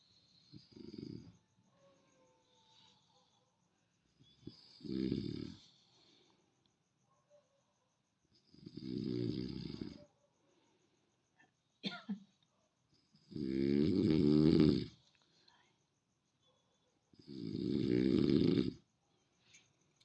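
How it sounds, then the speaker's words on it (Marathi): A person snores loudly through the night at home, with long rasping snores in a slow, uneven rhythm and quiet gaps between them. The breaths are close and prominent, and a few brief faint noises fall in the pauses. "घोरणं रात्रभर असंच रोज असतंय"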